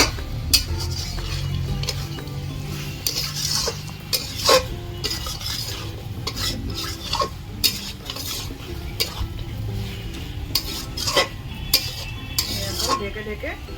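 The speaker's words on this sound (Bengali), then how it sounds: "এখন মাংসটাকে সুন্দর করে আমি কষিয়ে নেব, যতক্ষণ তেল না ছাড়বে ততক্ষণ আমি কষিয়েই যাব" Country chicken being stir-fried with turmeric in a pan, with steady sizzling and repeated scraping and clinking of a spatula against the metal throughout, close and fairly loud, no talking.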